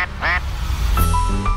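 A duck quacks loud and close in a couple of short nasal bursts, with a person talking over it.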